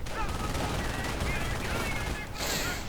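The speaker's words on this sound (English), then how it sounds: "Steve immediately taking up position in the house to fire down upon any German troops." Gunfire in the World War II strategy game Company of Heroes, a dense, continuous clatter of distant battle shots blended with steady game ambience, with no clear voices.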